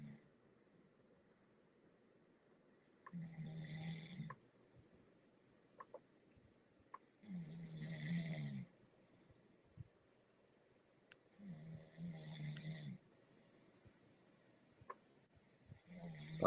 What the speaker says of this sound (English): Somebody's snoring.